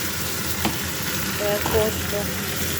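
Ground paste of onion, ginger, garlic and tomato frying in a pan, a dense continuous sizzle with occasional stirring scrapes, close and moderately loud, with faint brief tones in the background.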